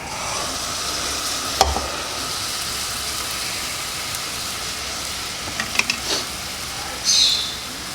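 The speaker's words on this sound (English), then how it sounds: "Then we stir until all the half and half has been absorbed and you cannot see any more white." Mashed potato chip mush with half and half is stirred in a pot, a soft continuous wet churning with a few sharper clanks of the utensil, close by and with no voices.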